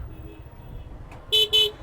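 Two quick loud honks from a Suzuki Gixxer FI ABS motorcycle horn on a long road ride out of Kuakata, sharp and close after a low rumble of engine and road noise.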